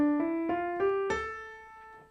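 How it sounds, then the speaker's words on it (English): A short run of single notes from a minor scale climbs in pitch, about five plucked tones in quick succession, the last one left ringing and fading. "Minor scale sounds like this."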